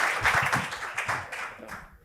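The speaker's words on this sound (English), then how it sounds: "A round of applause for Pau." An audience briefly applauds as the CEO of Zigurat, Pau F. Aldomà, takes the stage at an evening event. A short burst of clapping fades within about two seconds.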